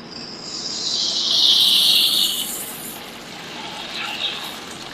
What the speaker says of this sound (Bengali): তেলটা গরম হয়ে গেছে, আমি এবার পাঁপড়গুলো ভেজে নেব